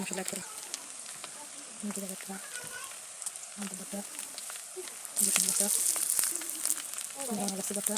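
Onion and garlic frying with spices in a pan, a steady close sizzle with crackles and pops, joined by a brighter hiss that swells midway, under occasional speech.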